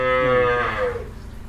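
A cow at a cattle farm lets out one loud, close moo that holds steady, then drops in pitch and fades.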